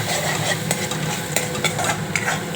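Small amounts of garlic and ginger sizzle steadily in a pan while being stirred, with scraping clicks from the utensil over a continuous bright frying hiss.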